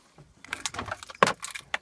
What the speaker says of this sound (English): Take the keys, put them in the ignition.